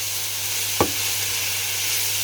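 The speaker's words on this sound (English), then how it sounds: "Look at that sizzling, can't you?" Beef ragu with mushrooms and carrot sizzles in a pan, a steady frying hiss with one brief clatter partway through, heard alone without talk.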